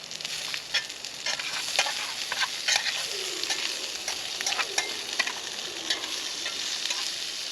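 Peppers and onions sizzle and crackle steadily in a pan over an outdoor cooking fire, a close, continuous hiss dotted with sharp pops throughout.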